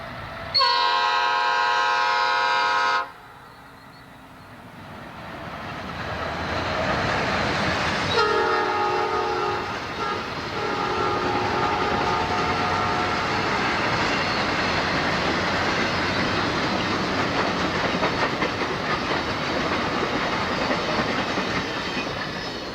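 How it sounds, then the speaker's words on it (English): Norfolk Southern Triple Crown freight train in 1989, a loud horn blast followed by a long, steady rumble of passing cars with rail clatter and a second horn sounding through it. "Ed recorded a much longer Triple Crown train from his backyard in downtown Central"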